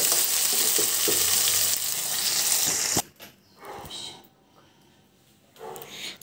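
Drumstick leaf and curry leaf chutney fries in a pan with loud, steady sizzling and stirring for about three seconds, then it drops to quieter, intermittent sizzles and clatter.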